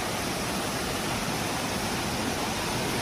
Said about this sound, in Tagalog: Ito lang natin sa inyo para makita din nyo yung waterfalls